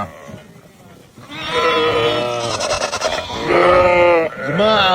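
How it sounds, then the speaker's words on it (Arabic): Sheep in a flock bleat loudly and close, several overlapping drawn-out calls following one another with short gaps and a low rustle of the animals between them. "جماعة غنم عالية"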